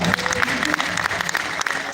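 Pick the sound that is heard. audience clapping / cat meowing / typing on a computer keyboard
audience clapping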